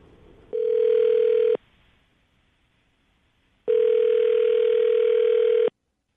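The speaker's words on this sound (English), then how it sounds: "I'm going to dial her phone number right now, okay?" A telephone line sounds two long, steady tones, one about a second and another about two seconds, separated by silence, like a ringback heard while a call connects, with no talk.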